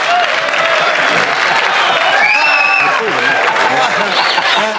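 A talk show studio audience breaks into loud applause mixed with chuckling and laughter, a dense crowd roar with scattered voices and whoops rising through it.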